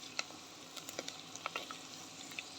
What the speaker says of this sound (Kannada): ಸಾಸಿವೆ ಹಾಗೂ ಮೆಂತೆಯನ್ನು ಒಟ್ಟಿಗೆ ಹಾಕಿದ್ದೀನಿ ಅದು ಚೆನ್ನಾಗಿ ಸಿಡಿದ ನಂತರ ಬೆಳ್ಳುಳ್ಳಿ ಹಾಗೂ ಶುಂಠಿ ಹಸಿಮೆಣಸಿನ್ಕಾಯಿನ ಸೇರಿಸಿದ್ದೀನಿ